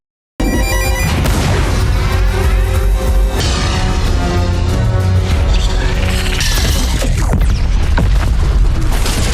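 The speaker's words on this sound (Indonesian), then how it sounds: "Gypsy pun memulai hitungan mundur untuk meledakkan dirinya" A giant robot self-destructs in an explosion in the science-fiction film Pacific Rim: loud, dense booming and crashing rumble continuously for about nine seconds, with rising metallic tones and rough impacts, and no voices.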